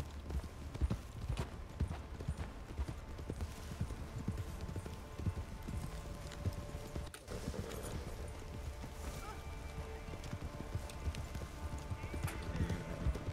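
Horse hooves clip-clop steadily while riding in Red Dead Redemption 2, a continuous, quick rhythmic beat of several horses, with occasional talk over it.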